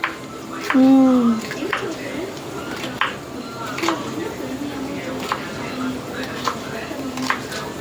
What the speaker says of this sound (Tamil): நடி கத்தி பதம் இல்லையா? கட் பண்ண மாட்டேங்குது.